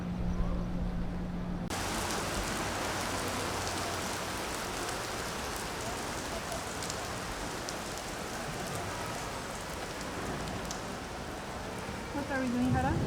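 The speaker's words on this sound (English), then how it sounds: "It's one of these lovely rains that we're getting here" Rain falling over Havana, Cuba, seen from a high outdoor viewpoint: a dense, steady hiss of drops that swells in after a quieter opening and continues evenly, close and loud.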